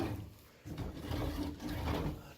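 Imitation-wood kitchen drawers in a house are pulled open and pushed shut, giving soft low sliding rumbles and muffled bumps in a quiet room.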